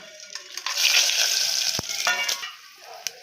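Whole spices hit hot oil and ghee for tomato kuska and sizzle sharply up close, a bright crackling burst that swells, then settles into a lighter fry punctuated by a few small clicks.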